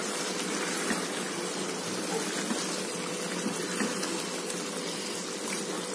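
A pot of chicken biryani rice boils steadily, a close, even bubbling hiss with small pops scattered throughout and no talking.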